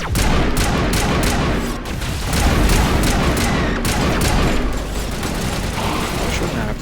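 Loud, sustained gunfire from the Mass Effect video game, with rapid overlapping shots and booming impacts that fill the whole stretch without a break.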